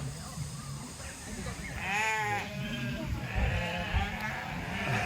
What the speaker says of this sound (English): They're literally shaving all the sheep and putting all the wool in a massive bag.